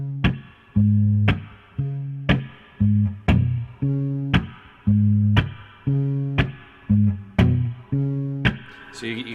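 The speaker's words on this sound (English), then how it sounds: "you can practice where you can hit that bass note and get a percussive feel at the same time" A guitar bass line with a percussive feel, low plucked notes in a steady rhythm, each punctuated by a sharp muted slap on the strings, repeating with regular pulse in a swamp noir style.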